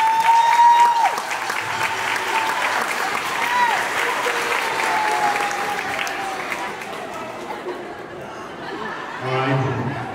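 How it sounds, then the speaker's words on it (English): Audience applause at a middle school honors band Christmas concert, a steady crowd clapping throughout with chatter and some light laughter mixed in. "So, one big clap for Mr. Mendes."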